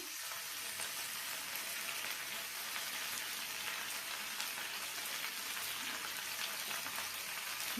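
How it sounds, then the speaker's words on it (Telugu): Washed gongura leaves hit hot oil in a pan, giving a steady, dense frying sizzle like rain that holds evenly throughout, close and continuous with no talk. "ఆయిల్ కొంచెం హీట్ అయిన తర్వాత దీంట్లోకి కడిగి పెట్టుకున్నాం కదా ఈ గోంగూరని యాడ్ చేద్దాము"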